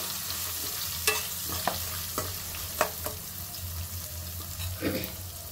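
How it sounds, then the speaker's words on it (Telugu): Curry leaves fried in a pan for pulihora pulusu give a continuous sizzle, with a spoon stirring and scraping in several distinct strokes close by. "ఇప్పుడు కరివేపాకు వేస్తున్నా. కొంచెం పెండుతున్నా."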